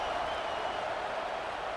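A football stadium crowd at a North Alabama vs Auburn game keeps up a steady, dense roar of cheering, heard from a distance as an even wash of noise with no single voices standing out.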